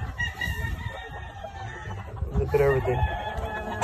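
Gamefowl roosters, including White Hatch and Sweater-type birds running with a Boston hen, crow and cluck around a farm, the calls mid-distance and mixed with a voice talking over them.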